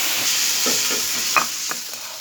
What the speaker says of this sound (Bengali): মুরগিটা ভাজার তেলে রসুন দিয়ে ঝোলটা ঢেলে দিছি